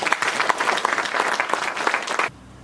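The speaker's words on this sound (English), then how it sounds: "Can we clap for them?" Audience clapping at a university summer school event, a dense, lively burst of applause that runs for about two seconds and then cuts off abruptly into near silence.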